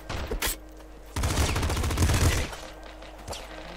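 Rapid-fire shooting from a pop gun in the top-down game Nuclear Throne: a dense, loud burst of repeated shots lasting over a second, with a few isolated pops before and after.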